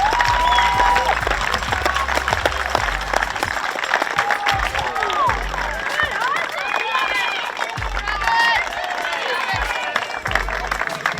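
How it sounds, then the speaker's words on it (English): Crowd at a Little League baseball game clapping and cheering as a young player runs in from the outfield: a broad, continuous wash of applause and voices with a commentator talking over it. "Clap him in, everybody."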